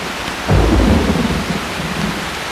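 Rain falls steadily while a low, rolling rumble of thunder swells and fades, heard outdoors in an African savanna near the end of the rainy season.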